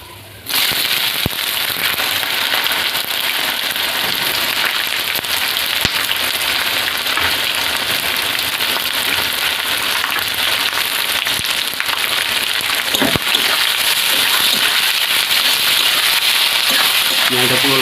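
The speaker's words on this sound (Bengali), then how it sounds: "পেঁয়াজটা পুরো লাল লাল করে ভেজে নেবো।" Sliced onions sizzle and crackle hard in hot oil in a pan, with whole garam masala (cardamom, cinnamon, cloves) and caramelised sugar, while desi chicken curry is cooked on a rainy day; a loud, dense, continuous frying sound.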